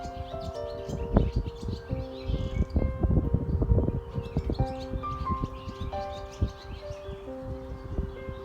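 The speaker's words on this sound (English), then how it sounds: "This is a perfect habitat for our friends, the red-winged blackbirds." Red-winged blackbirds call in a wetland, giving repeated chirps and tweets of varying loudness, some near and some farther off, over a steady outdoor background with rustling.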